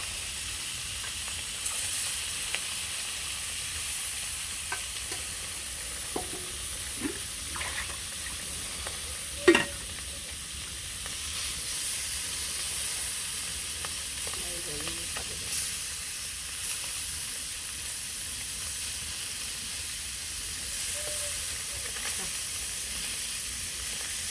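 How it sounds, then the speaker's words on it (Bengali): Oily puti fish from a village wetland frying in hot oil with cumin and radhuni spices, a continuous soft sizzle with a few scattered clicks and pops, no talking. "এরপর মাছগুলো ভেজে নিয়ে এখন"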